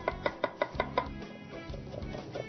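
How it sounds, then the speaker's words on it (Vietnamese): A knife chops onion, celery, carrot and leek on a cutting board in a home kitchen, making a steady run of six crisp, evenly spaced taps that then give way to softer, scattered cutting. "Kế tiếp, hành tây, cần tây, cà rốt và bơ rô. Anh sẽ cắt nhỏ."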